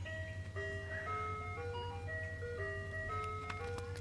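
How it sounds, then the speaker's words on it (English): An ice cream truck plays its tinkling melody of stepped electronic notes over a low engine hum, moderately distant and continuous. "You just see an ice cream truck."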